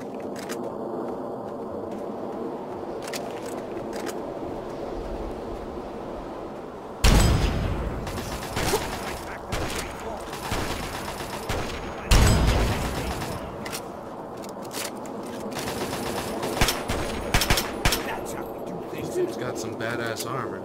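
Gunfire in Fallout 3's Operation Anchorage add-on, with loud bursts at about 7 and 12 seconds over a steady battle din of scattered shots and mechanical clatter, continuing throughout.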